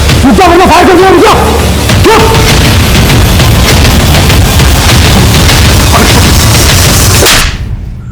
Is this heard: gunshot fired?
yes